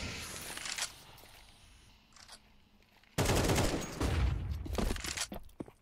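Gunfire rings out in a Counter-Strike match, an opening burst followed by a quieter lull with scattered shots, then a loud, dense volley of rapid shots through smoke.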